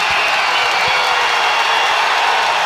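Crowd at a college wrestling dual meet, Iowa at Oregon State, roaring and cheering: a loud, steady wall of noise from a packed arena, unbroken for the whole moment.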